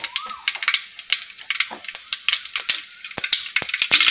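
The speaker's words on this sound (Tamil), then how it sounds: "இப்போ கடுகு போட்டுக்கலாம்." Mustard seeds sputter in hot coconut oil in a kadai, with a rapid, irregular run of sharp close pops and crackles over a faint hiss and no talk.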